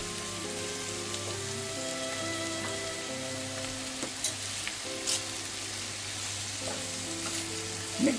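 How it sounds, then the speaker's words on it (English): Beansprouts and cabbage fry in a pan with cooking sake, giving off a continuous close sizzle broken by soft stirring scrapes and a few small pops and clinks. "Mix them and fry them."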